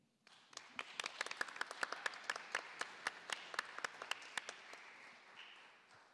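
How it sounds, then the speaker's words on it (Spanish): Audience applause at a panel discussion on media law reform, a steady burst of many hands clapping that rises quickly, holds for several seconds and then thins out, with no talk over it. "Les pido un aplauso."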